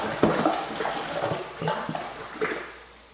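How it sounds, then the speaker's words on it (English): Well water pours into a fish tank during a refill, a steady broadband rush of flowing water with irregular splashing surges, close and fairly loud with no voices. "Now we gotta fill the tank back up."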